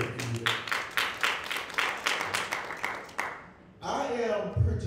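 A church congregation claps in praise, a run of regular sharp hand claps for about three seconds that gives way to a voice speaking.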